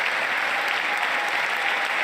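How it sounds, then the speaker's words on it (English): Sustained, dense applause from a large audience in a formal chamber during a presidential State of the Union address, steady and loud throughout without a break. "At least everyone clapping for that."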